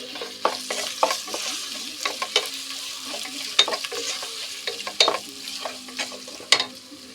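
Ginger sautéing in hot oil in a pan for a Kerala puliinji made with bilimbi, a steady sizzle broken by repeated scraping stirs of a spoon against the pan, close and clear with no voices.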